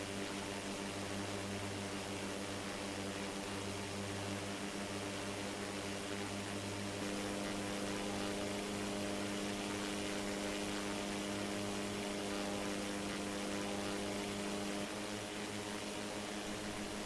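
An IRIS Jabiru J170 ultralight's propeller engine drones steadily in a flight simulator in flight, a constant even hum with no voices over it.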